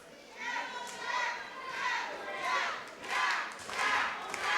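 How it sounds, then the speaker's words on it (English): A wrestling crowd at a WAW Wrestling show cheers and shouts for Jack, its noise swelling in repeated waves across the clip. "Crowd starting to rise to Jack."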